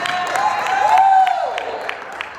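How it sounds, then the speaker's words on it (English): Conference audience applauding Angela and the Feathers at a diversity and inclusion in gaming event: a dense, steady wash of clapping throughout, with a voice and a tonal whine rising and falling over it. "clap it up for Angela and the Feathers today."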